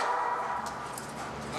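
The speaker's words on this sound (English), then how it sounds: "you really try to watch that dog because he's going to tell you whether or not someone is close enough" A police tracking dog on a search gives a brief bark amid steady outdoor background noise, moderately close and alone without talk.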